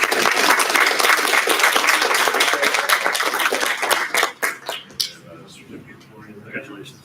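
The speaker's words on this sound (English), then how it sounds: "We'll have one more round of applause for Anna Osborne" A room full of people at a school board of education meeting applauds loudly, the clapping thinning out into a few scattered claps as it fades.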